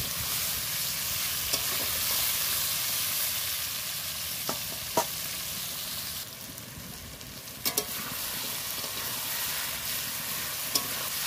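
Hog plum (amra) pickle being stir-fried in a pan, a steady close sizzle with scraping and stirring throughout, a few sharp clicks of the utensil against the pan, and no talking.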